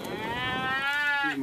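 Cattle moo loudly and close by during a cattle drive in Owyhee County, one long drawn-out call with rich harmonics that sweeps and falls before a second, lower lowing note begins.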